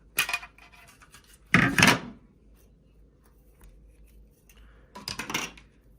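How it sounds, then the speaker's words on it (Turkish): Yellow tape is peeled off a Bosch Unlimited Gen2 Serie 8 cordless vacuum in three crisp, ripping bursts, each about half a second long, with quiet pauses between them. "Şuradaki sarı banttan bunu çıkartıyoruz."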